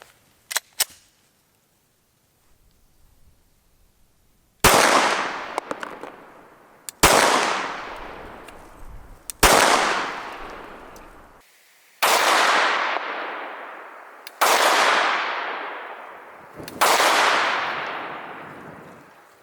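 A Glock 17 pistol fires 124 grain Federal Premium HST rounds: six loud, sharp shots spaced about two seconds apart, each with a long echoing tail, after a few faint clicks at the start.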